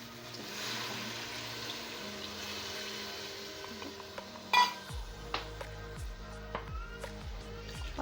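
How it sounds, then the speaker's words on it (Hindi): Water poured into a pot of browned dal cooking on the stove, giving a steady, close rushing and gurgling pour that breaks into sputters and bubbling as it settles. "अब हम इसके अंदर पानी ऐड कर देंगे।"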